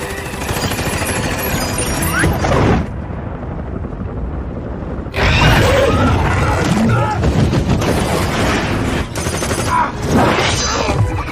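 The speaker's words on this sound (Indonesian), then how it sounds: "jenderal langsung menyuruh anak buahnya untuk menembaki titik tersebut" Soldiers fire volleys in a Venom movie scene, with loud, dense bursts of gunfire and booming impacts. A brief lull breaks the shooting before it resumes, and a voice comes through faintly.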